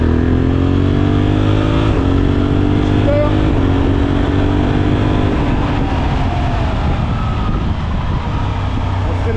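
A Suzuki V-Strom 800SE motorcycle accelerates hard and close up. Its engine note climbs through several rising gear pulls and then settles into a steady drone.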